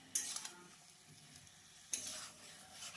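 Chicken sautéed in a pan for palak chicken gets stirred with a utensil, giving two sharp scraping clatters about two seconds apart over a quiet, soft sizzle.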